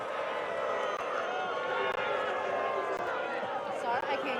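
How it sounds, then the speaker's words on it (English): A collegiate rugby stadium crowd reacts loudly to a referee's call with sustained, dense chatter and shouting, and some whistles and jeers come through for several seconds. "Crowd doesn't like that, Thomas."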